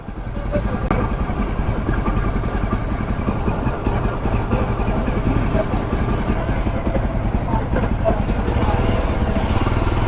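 A Jawa 42 Bobber motorcycle engine runs at a steady low idle, close and loud, a continuous rumbling putter on a road trip toward Vrindavan, while people talk over it.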